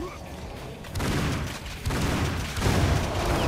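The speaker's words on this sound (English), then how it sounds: "That's explosion." Explosions and gunfire in the first-person shooter Painkiller: Hell and Damnation, with loud booming bursts stepping up in intensity over a dense, continuous rumble of in-game combat.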